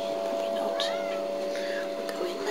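A mother cat and her four small kittens meow in a pen at a cat shelter, thin high cries repeating at close range while a person talks over them.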